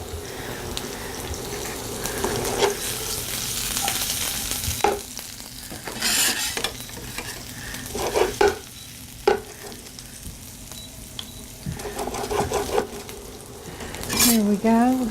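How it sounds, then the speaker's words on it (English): Onions sautéing in a pan give a steady frying sizzle, with intermittent scrapes and clinks of stirring against the pan throughout. "We're going to saute up those onions."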